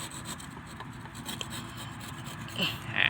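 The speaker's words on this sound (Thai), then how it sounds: "กิ่งไหนที่ไม่จำเป็นเราก็ใช้เลื่อยบางต่อ อย่างกิ่งนี้นะครับ" Thin hand saw rasping through a bougainvillea branch being pruned as a bonsai, a steady close scraping of strokes at a soft level with no speech.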